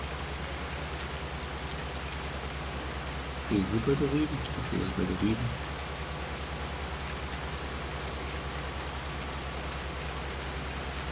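Steady rain falls across a farm in Farming Simulator 19, a constant hiss running throughout, with someone talking briefly over it partway through.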